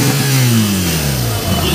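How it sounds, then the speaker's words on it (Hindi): A BMW motorcycle's aftermarket exhaust revving up loud and close, the engine note climbing and then falling back, with a deep throaty rasp. "तो भैया ये है BMW का एग्जॉस्ट"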